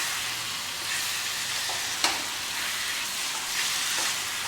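Mutton keema and liver fry in a pan while being stirred, giving a steady close sizzle with occasional scraping clicks from the spoon and no voices.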